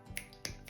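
Three crisp finger snaps spaced about a quarter second apart, sharp and close with bright clicks, with no voices.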